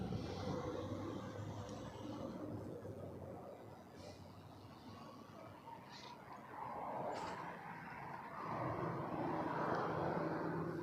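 An airliner exiting the runway at Toronto Pearson Airport, its engines a steady distant roar that swells toward the end, with faint bird chirps scattered over it.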